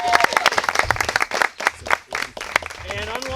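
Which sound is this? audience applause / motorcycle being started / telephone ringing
audience applause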